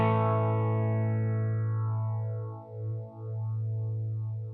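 A sustained synth-like tone runs through a vintage Moogerfooger 12-stage phaser on a basic setting, its sweeping notches slowly gliding up and down through the held note, steady and fairly quiet with no talking.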